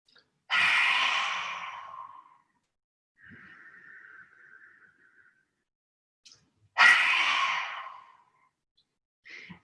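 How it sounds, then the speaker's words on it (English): Two loud forceful exhalations of lion's breath in a yoga practice, each a long breathy whoosh from close by, separated by quieter breathing. "If you'd like to do lion's breath, then really stretch your chest forward and stick your tongue out as far as it will go"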